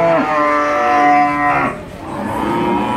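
A Limousin cow being offered for sale at the Sragen animal market lets out one sustained, loud moo for about a second and a half, followed by quieter market background.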